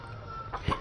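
A backyard chicken clucks briefly, a short burst close by over a low steady background hum.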